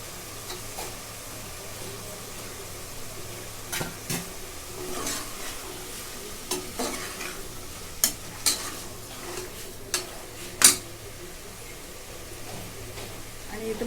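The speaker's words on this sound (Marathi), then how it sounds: "आता ह्याच्यामध्ये भाज्या टाकून घेते बटाटा हिरवी मिरची आहे फ्लावर आणि गाजर" Potato, green chili, cauliflower and carrot stir-fried in a pan, with a low sizzle beneath irregular scraping and clacking strokes of a spatula that grow sharper toward the end.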